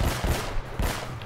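Incoming gunfire aimed at the player in the video game Uncharted: Drake's Fortune, heard as several quick, loud shots in rapid succession with no talking.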